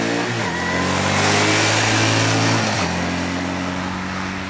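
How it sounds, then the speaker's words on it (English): A Yamaha Dragstar 650 cruiser motorcycle runs loud and close, its engine note holding steady, then dropping and shifting as the rider changes speed. "The Yamaha 650 Dragstar."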